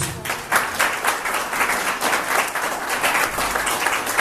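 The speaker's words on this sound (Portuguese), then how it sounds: "Aplauda o Senhor Jesus" Sustained applause from a church congregation, dense clapping that stays steady throughout, filling the room without any speech.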